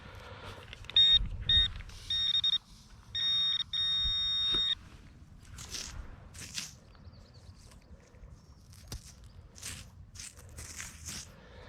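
Minelab Equinox 800 metal detector on a beach sounding several short tonal beeps in quick succession, followed by quieter scraping and crunching of sand as the spot is worked.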